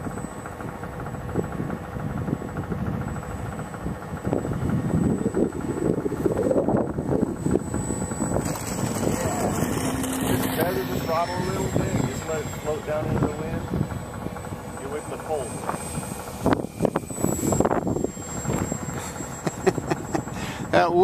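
Wind buffets the microphone during a windy outdoor flight of a T-28 model plane, mixed with the whine of its motor passing near and far, while a person talks over it.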